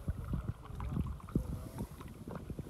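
Canoe paddles dipping and pulling through water on the Red Deer River, a series of soft, irregular splashes and strokes close by under faint wind noise.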